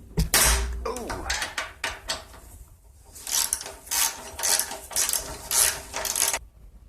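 Ratchet wrench with a 1/2-inch socket loosening a fuel tank bolt on a 2012 Yard Machines riding mower, close and loud: bursts of clicking pawl ratcheting in uneven strokes, a pause in the middle, then a steady run of repeated ratchet strokes.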